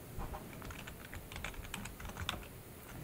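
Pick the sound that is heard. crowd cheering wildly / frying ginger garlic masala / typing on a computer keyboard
typing on a computer keyboard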